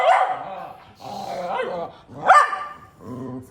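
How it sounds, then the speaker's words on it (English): Two dogs barking and growling up close, in repeated loud bursts of rough barks separated by short pauses, with snarling growls between them. "the dogs have been wild and crazy"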